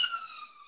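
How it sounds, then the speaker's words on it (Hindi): An ambulance siren passing by outside, a faint tonal wail with several harmonics, fading gradually over a brief moment with no talk. "एम्बुलेंस गुजर रही थी तो उसकी वजह से वो शोर ज्यादा हो गया।"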